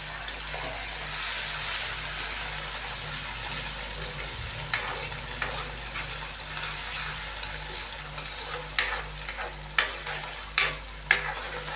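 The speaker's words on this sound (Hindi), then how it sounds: "और हल्का सा हम इसको फ्राई करेंगे ताकि अदरक लहसुन के पेस्ट का कच्चापन ख़त्म हो जाए।" Ginger, garlic and green chili paste frying and being stirred in a pan for a gram-flour curry, a steady sizzle with scraping stir strokes that grow sharper toward the end, close and alone without speech.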